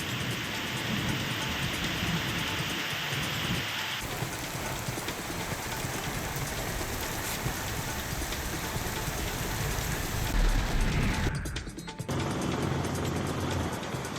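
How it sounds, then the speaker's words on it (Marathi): Steady rain falls across Raigad district, a continuous broadband wash of drops hitting surfaces that holds evenly throughout, with a brief dip and shift near the end, and no voices. "अलिबागसह माणगाव, नागोठणे, पाली, म्हसळा, श्रीवर्धन, मुरुड या भागामध्ये पाऊस सुरू आहे।"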